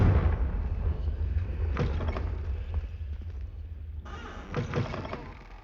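A Confringo fire spell cast in Hogwarts Legacy, heard as a sharp burst near 1.8 seconds and a second burst of crackling impacts around 4 to 5 seconds, over a steady low rumble of game ambience.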